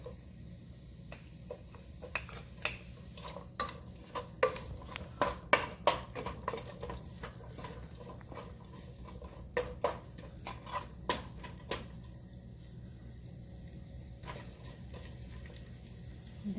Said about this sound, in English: Saute the onion first.